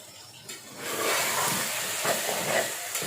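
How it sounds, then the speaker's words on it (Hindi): Black cardamom, cloves and salt roast in a hot pan for aloo matar pulao, giving a steady sizzling hiss that swells after a quieter start and crackles softly throughout. "मसाले डालने के बाद इसकी थोड़ी देर भुनाई करनी है।"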